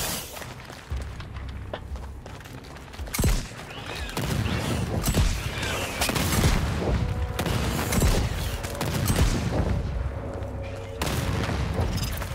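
Weapons fire in the action shooter Second Extinction comes as dense, continuous bursts of rapid shots and booms over a busy combat soundscape, with a speaker talking intermittently underneath.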